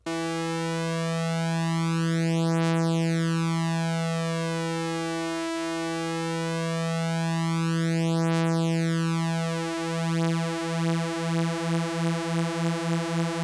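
Ableton Live's Analog synth plays a sustained tone from two slightly detuned oscillators, their pitches sweeping toward and away from each other so a slow, wavering beating swells and fades before quickening into rapid pulsing near the end; no voice.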